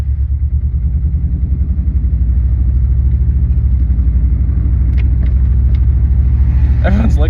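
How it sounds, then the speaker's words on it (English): Cheap used car bought for $500 with a cylinder problem, its rough-running engine a loud, close, uneven rumbling throb, with a few brief clatters and a voice near the end. "Oh, this car sounds so bad."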